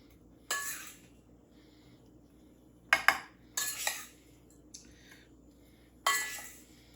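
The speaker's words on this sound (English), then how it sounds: "spoon these strawberries over top. Just like so. Just kind of spoon them." A spoon clinking and scraping in a baking dish while strawberries are spread for a cobbler, several short separate metallic bursts with quiet pauses between them, close and moderately loud.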